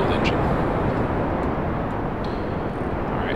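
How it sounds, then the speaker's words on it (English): Solid rocket boosters burning at launch in Kerbal Space Program, a steady, loud roaring rumble of broadband noise sustained throughout without letting up. "the solid rocket boosters will give us plenty of fuel"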